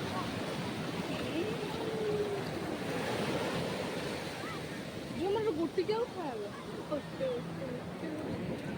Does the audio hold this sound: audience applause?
no